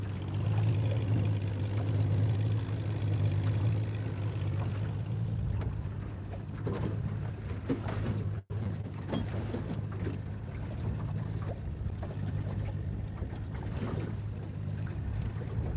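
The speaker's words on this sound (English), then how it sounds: "Wind is kicking our butt, and I think the wind is here for the rest of the day." Steady wind roaring and buffeting across an open reservoir, with a low rumble from gusts hitting a fishing boat on Pishkun Reservoir in Montana; the blowing is continuous and loud, broken by one brief dropout midway.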